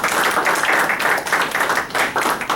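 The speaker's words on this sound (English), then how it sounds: "So let's give him a quick round of applause." Audience at a retired men's luncheon applauding a man named Bob, a full room of steady, dense clapping that carries on evenly, loud and fairly close.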